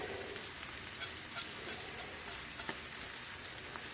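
Garlic fries in a pan with sausage and spinach, a steady, dense sizzle and crackle that holds at an even level throughout, close by and without voices.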